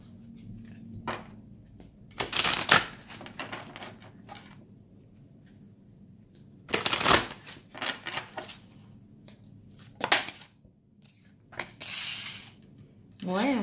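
Tarot cards are cut and shuffled in several quick riffling bursts, separated by quieter pauses with light handling sounds, close and crisp.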